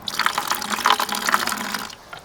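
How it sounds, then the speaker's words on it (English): Liquid plant booster glugs and splashes as it is poured into a fertilizer mix for pepper plants, a steady close pour lasting about two seconds before tapering off. "Then we'll take some of this plant booster here and add a few ounces of that."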